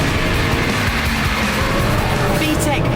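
A Honda Civic Type R's VTEC engine revs hard on a race circuit, a loud, steady, close roar with tyre noise mixed in and a voice talking over it.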